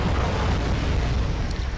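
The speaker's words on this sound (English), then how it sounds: "And now I start calling in some artillery." Artillery strike explosions in the real-time strategy game Wargame, a continuous heavy rumbling roar of blasts, loud and dense with no gaps.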